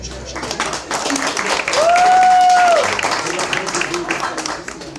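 A stand-up comedy crowd breaks into applause, the clapping rising to a loud peak midway with a sharp whistle-like tone cutting through, then easing back as voices continue underneath.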